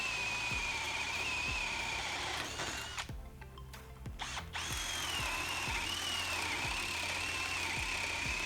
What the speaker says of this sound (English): you can see that the Milwaukee burns through the timber really quickly